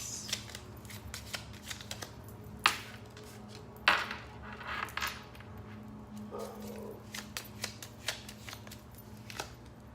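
Tarot cards are shuffled and drawn in a quick run of flicks and riffles, with a couple of sharper snaps and a faint steady hum underneath.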